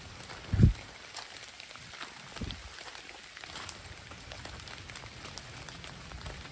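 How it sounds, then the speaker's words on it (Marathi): Light rain patters softly outdoors near a cashew tree in the Konkan countryside, faint scattered drops with a couple of louder nearby knocks or steps over a quiet hiss. "अजून काय पाऊस थोडं कमी झालो"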